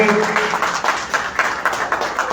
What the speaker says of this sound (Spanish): no quiero despedirme sin que le demos otro fuerte aplauso a Yokaira